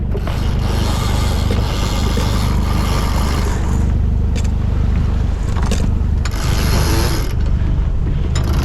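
A sailboat's engine runs steadily and loud at sea with a constant low mechanical drone, and occasional clicks and knocks cut through it.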